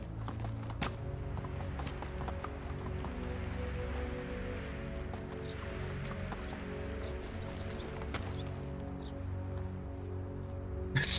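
Horse hooves clip-clopping steadily while riding in the Medieval Dynasty video game, a continuous trotting rhythm over a dense, constant background of game ambience.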